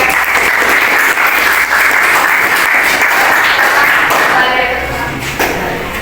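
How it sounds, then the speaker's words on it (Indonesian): A classroom of students applauds a presenting group, dense close clapping that fills the room steadily for several seconds and then thins slightly toward the end, with faint thumps and shuffling. "berikan tepuk tangan untuk kelompok cair"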